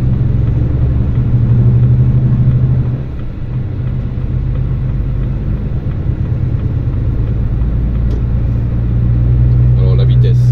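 A new truck crossing the Pont de Normandie bridge at night in fog gives a loud, steady cab-interior engine drone and road rumble, with a constant low hum throughout and a slight dip in level partway through.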